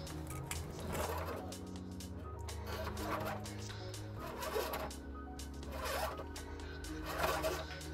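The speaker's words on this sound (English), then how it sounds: "We're gonna secure the power wire to these lines with some zip ties." Zip ties being ratcheted tight around a trailer-harness power wire and fuel lines under a 2018 Chevrolet Malibu, a series of soft zipping pulls about once a second, faint and close.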